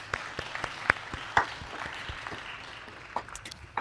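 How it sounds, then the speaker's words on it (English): Audience applause closing a conference discussion session, a soft, steady wash of clapping with a few sharper individual claps standing out, heard from some distance at low volume. "Let's give them one more round of applause"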